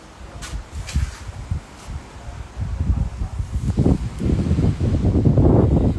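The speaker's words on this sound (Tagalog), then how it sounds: "Ba't ang hangin sa San Juan dito sa Agoo" Wind sweeps across a beach in Agoo, a gusty rustling roar that builds and grows louder toward the end.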